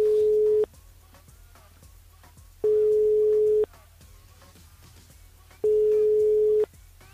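Telephone line tones while dialling back a radio listener during a live broadcast: three steady beeping tones, each about a second long, repeat at even intervals over a quiet line hum, with no talk.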